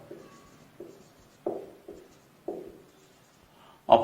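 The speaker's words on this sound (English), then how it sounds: "I'll write it small." Chalk or marker strokes on a classroom board during a trigonometry lesson, a series of short scratchy bursts roughly every half second, close and moderately loud, ending with a sharper louder stroke.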